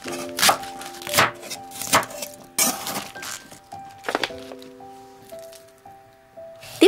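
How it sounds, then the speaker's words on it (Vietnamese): A knife chops bok choy into short five-centimetre lengths on a cutting board, a series of sharp, crisp cuts at irregular intervals, close and clear with faint tonal background sounds between strokes. "Thêm cải ngọt, mình cắt khúc ngắn cỡ 5 cm"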